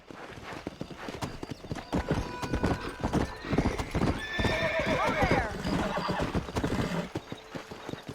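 Hooves clop rapidly as a horse gallops in the Western video game Red Dead Redemption on Xbox One X, with a loud whinny partway through and talk over the steady hoofbeats.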